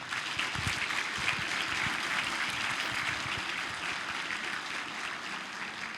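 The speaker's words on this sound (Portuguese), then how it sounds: "Senhoras e senhores, doutora Márcia Cova, uma salva de palmas." Audience applause at a leadership symposium, a steady dense patter of many hands clapping for about six seconds, moderately distant and gradually easing off.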